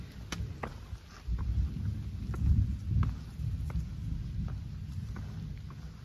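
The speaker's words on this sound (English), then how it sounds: "Still raining." Rain falls steadily on the Appalachian Trail in Vermont, a soft continuous patter with scattered sharper drips striking close by, fairly faint and with no voices.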